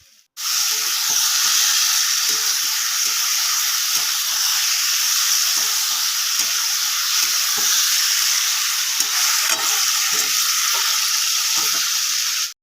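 Ridge gourd curry fries in a pan with a loud, continuous hissing sizzle, close by and unbroken, dotted with occasional low bubbling pops and no talking.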